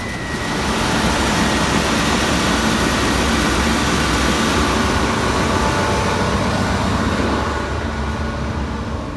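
Large marine ship engine running inside the engine room, a loud, steady, dense roar with deep low rumble that continues unbroken throughout, with no voices.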